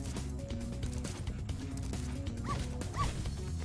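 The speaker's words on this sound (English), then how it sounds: "Dogs." Dogs in Spyro: Reignited Trilogy give a couple of short barks and yips over busy, continuous game music.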